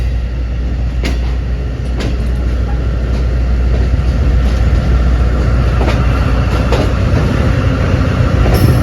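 Awam Express train pulling out of Rawalpindi on the line toward Peshawar, heard from on board: a steady loud rumble of wheels and carriage with faint rail clicks at intervals.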